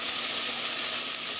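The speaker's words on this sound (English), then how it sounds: "we're going to let that saute for a little bit" Food sautéing in a pan for a quick lunch, a close steady hiss of frying that holds even and unbroken for the whole moment, with no talking.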